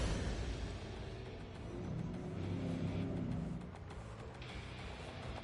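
A powerful, torquey Citroën Aircross in The Grand Tour game, a loud engine drone that swells and eases over a few seconds as the car drives, without speech.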